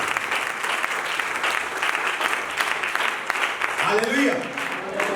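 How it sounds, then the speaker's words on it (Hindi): Loud, dense audience applause fills a church worship service, steady clapping throughout with a voice rising over it near the end. "जोरदार तालियों से।"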